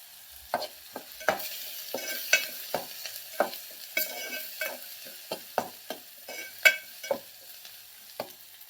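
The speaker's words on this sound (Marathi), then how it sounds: "बारीक चिरून घेतलेला कांदा आहे. कांदा भाजून घ्यायचा आहे आपल्याला." Finely chopped onion sizzles and fries in a pan over a medium gas flame, a soft steady crackle broken by sharp scraping strokes of a stirring spoon at irregular intervals, close and alone without talk.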